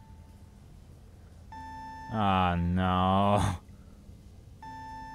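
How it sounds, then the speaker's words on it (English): In the video game Penumbra: Overture, an alarm sounds as a repeated electronic tone, steady and fairly loud, with a short pause between bursts. A voice talks over part of it. "I turned on the alarm."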